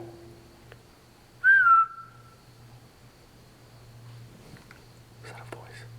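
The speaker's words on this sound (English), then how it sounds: "I'm gonna whistle. Can you whistle back?" In a large, quiet abandoned asylum building, a person gives one short rising-and-falling whistle, clear and fairly close, against a low steady hum, followed by faint distant knocks and rustles.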